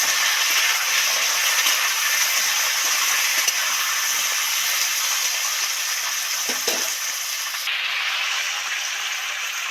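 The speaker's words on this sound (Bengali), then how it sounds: "এবার এর মধ্যে আলু আর টমেটোটা উঠিয়ে দেব।" Potatoes and tomatoes sizzle loudly in hot spiced oil for a vegetarian cabbage dish. A dense, continuous hiss holds steady throughout, with a faint clatter midway and a slight shift in tone near the end.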